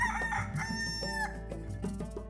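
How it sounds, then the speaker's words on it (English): A rooster crowing on a farm, one loud, drawn-out cock-a-doodle-doo with strong harmonic tones, close by and alone with no talking. "That is just a hen."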